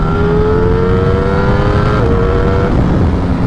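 Ducati Streetfighter V4 motorcycle accelerating hard in third gear at about 70 mph after a downshift, a loud continuous engine roar with rising pitch and strong wind rush, no talk.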